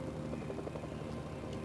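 A helicopter in the video game Mercenaries: Playground of Destruction makes a steady droning, rotor-driven hum that holds at an even level throughout.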